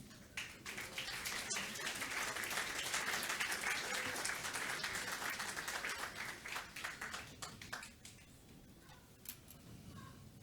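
A church congregation at a New Year's service claps loudly and steadily, dense applause that thins into scattered individual claps toward the end.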